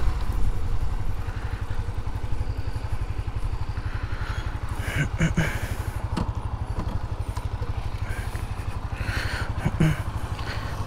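A 2021 Honda CB Twister 250 F motorcycle runs at a steady idle, a fast, even low-pitched put-put with light mechanical clatter, moderately quiet, and no one speaking over it.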